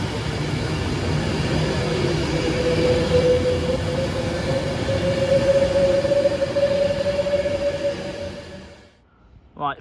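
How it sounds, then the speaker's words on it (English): A freight train hauled by locomotive 56569, running from Trafford Park to London Gateway, rumbles loudly past at close range with a steady wheel-and-engine roar and a sustained metallic squeal, then cuts off abruptly near the end. "first freight train is going to be Trafford Park London Gateway. 56569"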